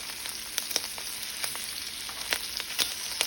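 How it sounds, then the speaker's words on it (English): Shrimp frying in butter in a pan, cooked for fried rice: a steady, close sizzle with sharp little pops and crackles scattered throughout. "So we're going to let the shrimp fry for like about 30 seconds to 40 seconds until it's lightly brown on one side"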